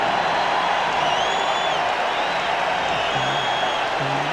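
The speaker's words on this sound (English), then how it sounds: "this foreign crowd is rocking" An arena crowd at a 1997 NBA game between the Lakers and Bulls roars steadily after a three-point basket, a dense continuous cheer with scattered whoops and whistles filling the whole stretch.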